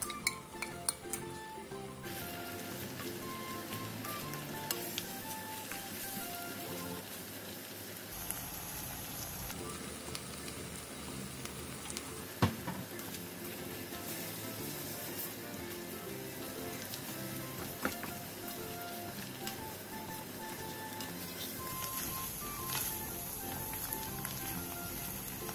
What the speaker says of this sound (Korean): 양파, 오징어, 다진 마늘 1, 간장 1을 넣고 오징어의 살이 통통하게 차오를 때까지 볶아주세요